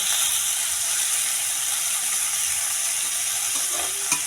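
Tomatoes frying in a pan while cooking adobong sitaw: a steady, close, even sizzle that runs throughout, with a faint scrape or click near the end.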